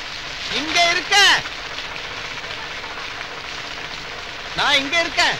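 Steady rain falls on a surface as a constant dense patter throughout, while someone speaks over it in two short bursts near the start and end.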